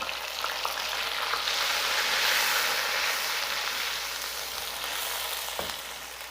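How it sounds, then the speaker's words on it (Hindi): Onions sizzle and fry in hot oil left over from cooking chicken, a steady dense crackle that swells slightly mid-way, with a brief clatter near the end and no voices. "अब हमने चिकन निकाल ली है और इसी ऑयल में हम प्याज को ऐड कर देंगे।"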